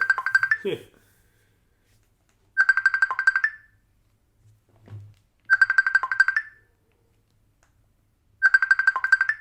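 An incoming-call phone ringtone plays as a bright melodic jingle in four repeating bursts about three seconds apart, with a brief low voice in one of the gaps.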